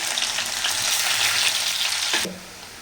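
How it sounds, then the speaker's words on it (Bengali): Cumin seeds, chopped garlic and chopped onion hit hot oil in a pan for a mixed-vegetable dish, giving a loud, steady crackling sizzle up close that drops away sharply near the end. "জিরা জিরা ফোড়নটা দিয়ে দিব। তারপরে দিয়ে দিব হচ্ছে রসুন রসুন কুচি, আর দিব হচ্ছে যে পেঁয়াজ কুচি"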